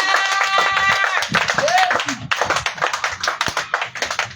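Members of a worship congregation clap to acclaim the Lord during a revival service. Sustained clapping runs under singing or voices early on, then thins into more distinct rhythmic claps toward the end.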